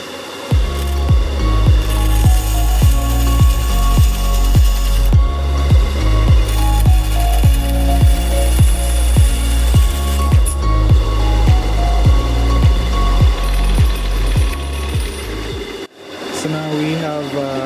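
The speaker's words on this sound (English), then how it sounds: "So we're gonna cut this on the saw." Power saw cutting a wooden wing tip pod template for a T-One model aircraft, with a loud steady motor drone and rapid regular pulsing running continuously for about fifteen seconds, then stopping.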